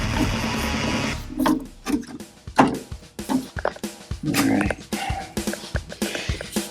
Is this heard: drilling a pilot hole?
yes